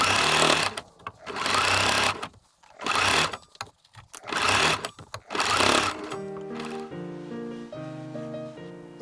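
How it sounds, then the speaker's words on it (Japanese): Sewing machine stitching the sleeve cuffs of a child's suit, loud whirring runs in several bursts with short pauses, followed by soft music. "後ろ袖を縫い合わせよう。 袖口を縫おう。"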